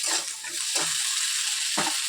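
Peas and potatoes sizzle and fry in a pan, a steady hiss with a few stirring scrapes, close and fairly quiet with no talk.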